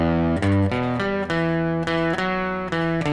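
Distorted electric guitar plays a riff, a loud, sustained chugging line of chord-like notes changing in a steady rhythm, with no voices over it.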